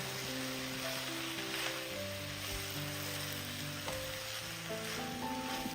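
Vegetable fried rice stirred in a hot pan with spring onion, a steady loud sizzle with faint scraping of the spoon, continuous throughout with no talking.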